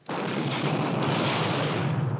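A heavy explosive charge of about three kilos detonates on a railway roundhouse turntable pivot, a sudden close blast that swells into a long, dense roar and rumble sustained without any talk.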